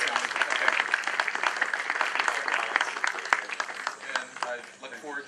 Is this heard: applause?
yes